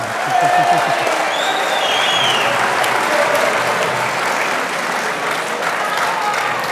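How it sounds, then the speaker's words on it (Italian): Students fill an auditorium with applause, a broad, steady roar of many hands clapping at once, with scattered whoops and voices in the crowd throughout. "Facciamoci un bel applauso una volta tanto"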